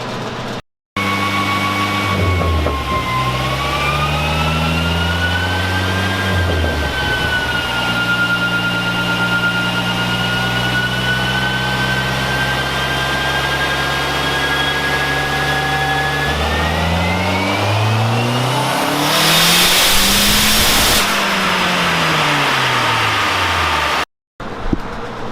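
A car on pump gas runs on a dyno, its engine revving up in long sustained pulls with rising and falling pitch, loud and close, dropping back between runs and ending abruptly.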